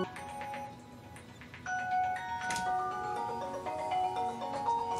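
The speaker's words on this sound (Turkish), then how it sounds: "alarmın çalıyor" A chiming electronic tone rings in repeated melodic notes, a phone-style alarm sounding steadily at moderate volume with no talking.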